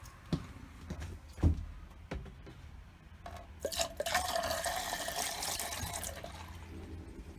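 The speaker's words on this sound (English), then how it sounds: "just want to pour some right down in all the sinks" Water poured from a jug down an RV sink drain while winterizing, starting with scattered drips and splashes, then a steady gurgling pour, fairly quiet and close.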